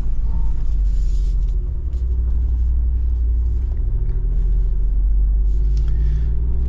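A Jeep Wrangler Rubicon 392 rolls along a road in the rain, its V8 engine a steady low rumble throughout with light road and tire noise layered on top.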